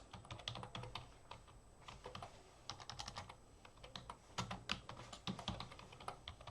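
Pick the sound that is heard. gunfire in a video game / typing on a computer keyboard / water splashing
typing on a computer keyboard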